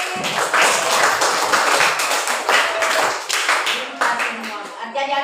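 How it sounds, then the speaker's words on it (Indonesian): A class of third-grade children clap their hands together in a loud, dense burst of overlapping claps that carries on steadily throughout, with some voices mixed in. "Tepuk tangan sekali lagi."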